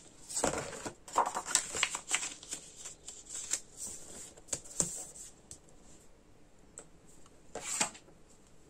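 Paper for a handmade mini album being creased and folded into a narrow pleat, crisp rustling and scraping bursts close by with short pauses between movements, no voices.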